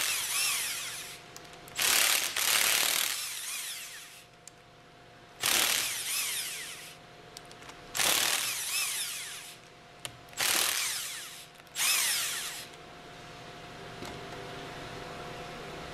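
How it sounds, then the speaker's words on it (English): Impact wrench with a 12 mm hex socket loosening the valve plate retaining bolts on a General Pump HF pump: six loud, separate whirring and hammering bursts of one to two seconds each, with quiet pauses between. "Use the impact wrench with a 12 millimeter hex attached to loosen the 8 valve plate"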